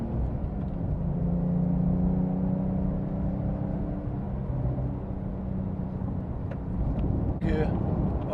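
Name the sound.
Porsche Carrera S driving up canyon in sport mode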